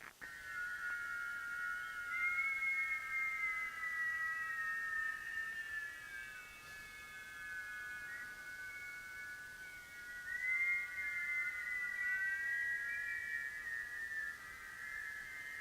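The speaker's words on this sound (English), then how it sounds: "Full exhale in a whistle." Long whistled exhale during a guided breathing exercise, a thin sliding tone that holds for several seconds, pauses, then returns in a second long breath, close and steady over a quiet background.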